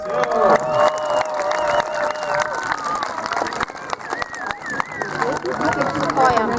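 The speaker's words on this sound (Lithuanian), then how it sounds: "Padrasinam Utenio žaidėjus aplodismentų." A crowd at an outdoor family sports event claps and cheers to encourage the Utena players, with steady applause and excited shouts under a loud announcer's voice.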